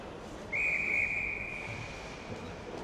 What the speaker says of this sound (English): And a whistle here.